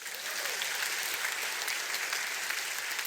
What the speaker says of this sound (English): You get a round of applause.